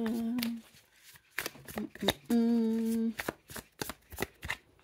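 A deck of tarot cards being shuffled in rapid riffling bursts, with a person speaking and humming between and over the shuffles.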